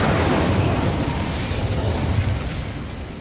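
The Incendio fire spell erupts in Hogwarts Legacy as a loud, continuous roaring whoosh of flame with a deep rumble, sustained for about three seconds and slowly easing off.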